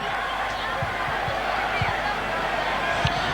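Stadium crowd at a Leeds versus Wigan rugby match, a steady broad murmur of many voices with occasional low thumps, heard from a distance without standout cheers.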